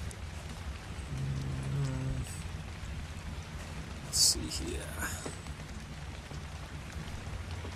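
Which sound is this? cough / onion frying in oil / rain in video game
rain in video game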